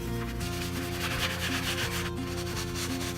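A sanding sponge rubs steadily back and forth across a vintage Drexel mahogany claw-leg buffet table, a close, continuous scratchy rasp with soft background music and no speech.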